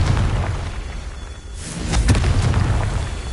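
A Confringo blasting spell bursts in Hogwarts Legacy, a loud booming explosion swelling midway and rumbling on with a deep, sustained low-end roar.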